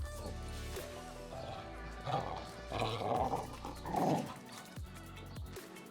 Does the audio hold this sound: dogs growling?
yes